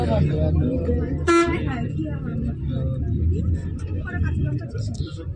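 Car horns honking in a traffic jam on the road home from Sevoke Kali temple, one loud blaring toot near mid-clip over steady engine rumble, with people talking throughout.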